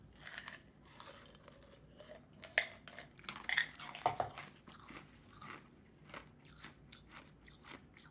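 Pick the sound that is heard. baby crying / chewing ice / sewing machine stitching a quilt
chewing ice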